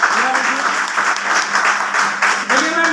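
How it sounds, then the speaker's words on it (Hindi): Audience applause at a gathering in Gopalganj, Bihar, loud dense clapping sustained throughout with some voices mixed in. "एक बार सर के लिए जोरदार ताली"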